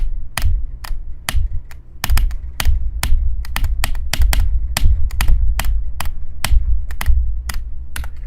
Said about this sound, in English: I clicked! You heard the second click.